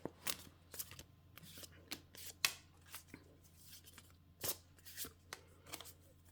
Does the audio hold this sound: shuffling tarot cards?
yes